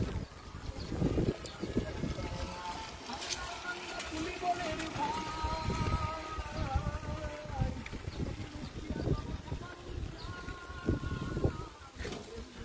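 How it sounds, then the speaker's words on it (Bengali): Strong, gusty wind roars through a rainstorm, a constant broadband rush with rain hiss, while voices talk throughout. "প্রচুর বাতাস"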